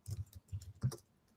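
Quiet, close typing on a computer keyboard: a short burst of soft key taps in an uneven rhythm, alone without speech.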